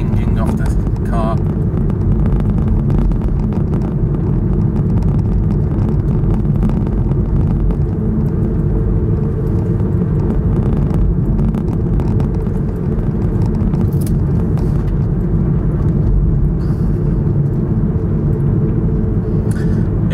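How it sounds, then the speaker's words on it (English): A Kia e-Niro electric car drives a gravel-strewn side road in Finland, with small stones pinging and clinking off the underbody in scattered bursts over a steady, loud road rumble. "All the gravel remains though, you can hear it. Chinging and pinging off the car."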